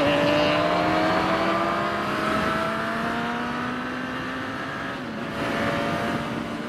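A 2021 Suzuki Katana motorcycle cruises along Karak Highway at night, its engine holding a steady, close drone under rushing wind, with the pitch dipping slightly as the revs shift near the end.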